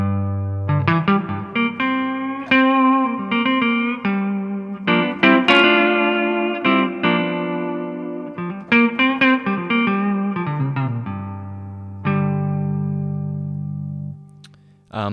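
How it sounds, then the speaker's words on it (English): Electric guitar on an Evolution Hollowbody Blues amp played through real spring reverb tanks, strummed chords and picked notes ringing out with springy splash and decay, then a long sustained chord, loud and close. "So these are all real spring reverb tanks"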